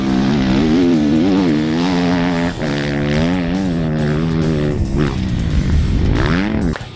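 A 2017 Kawasaki KX250F motocross motorcycle engine revs loudly and steadily, its pitch rising and falling through several throttle changes, close by with no talk.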